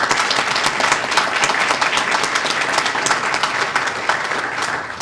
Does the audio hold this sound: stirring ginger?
no